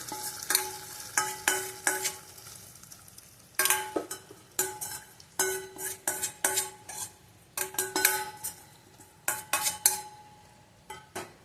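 Mustard seeds tempered in hot oil are poured into a Kerala-style ginger yogurt curry, followed by repeated bright metallic clinks and scrapes of a spoon against the pan, coming in quick bursts over a soft sizzle.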